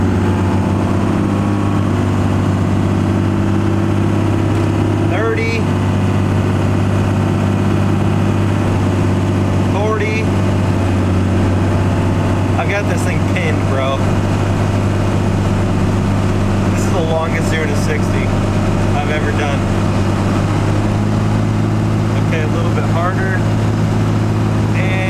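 A pickup truck engine runs with a deep, steady rumble and hum, rising and falling slightly as it accelerates, heard from inside the cab while a person talks over it intermittently.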